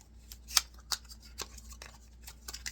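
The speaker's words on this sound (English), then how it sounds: "Give it a shuffle." A tarot deck being shuffled by hand, with soft papery riffles and crisp card snaps coming in irregular bursts close by in a quiet room.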